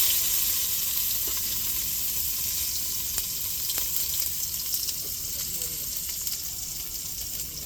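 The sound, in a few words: onions frying for coconut milk rasam tempering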